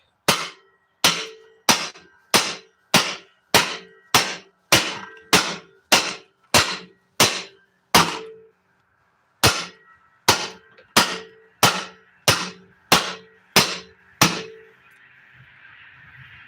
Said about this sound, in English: Give it a couple of good whacks while it's loose.